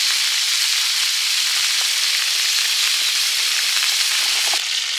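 Gnocchi frying in butter on a hot camp pan, with a loud, steady, close sizzle and faint crackles, no voices.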